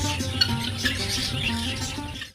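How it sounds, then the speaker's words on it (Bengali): Small birds chirp and tweet in brief bursts at a Kolkata-area ashram, heard over a low musical hum that fills the background. "কিছু পাখিদের কিচিরমিচির শুনতে পারবেন"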